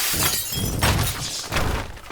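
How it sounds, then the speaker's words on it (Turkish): Glass shatters in the video game Teardown as shards are thrown down, giving several loud crashing breaks over about two seconds with no talk. "cam parçalarını aşağı attım ve cam parçalarını da gördüler"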